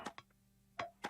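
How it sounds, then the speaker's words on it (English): Sparse, quiet fill percussion from an orchestral downtempo arrangement: a few soft plucky hits with short tonal tails, widely spaced and played alone over a low hum. "And some fill percussions in the background."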